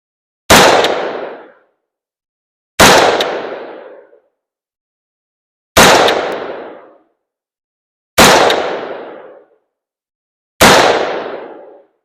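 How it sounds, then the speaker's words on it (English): Five loud, sharp rifle shots from an AR-15 ring out one at a time, evenly spaced about two seconds apart, each with a decaying echo into silence, with no talk. "Take 5 shots as well."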